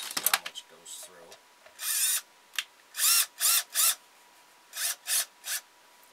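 A drill drives a 1 1/4 inch screw in a series of short, sharp whirring bursts separated by pauses, close and fairly loud against a quiet background.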